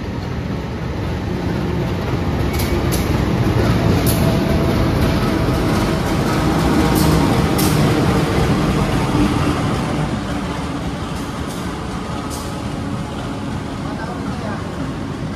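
A Kertanegara passenger train in Indonesia rolls past, giving a loud, steady rumble and roar for about fifteen seconds with intermittent higher squeals at the start.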